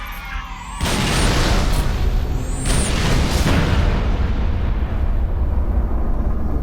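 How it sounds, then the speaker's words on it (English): A deep boom erupts in Halo: Reach, then a sustained heavy rumble of artillery explosions continues, loud and dense, with faint whistling streaks overhead. "So many explosions."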